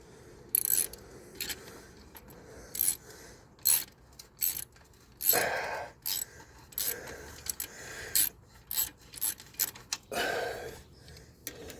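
Clamp on a slip-on muffler being tightened on a Suzuki DR650 motorcycle exhaust: repeated short metallic ratcheting bursts and scraping clicks in uneven clusters, close and fairly quiet, with no talking.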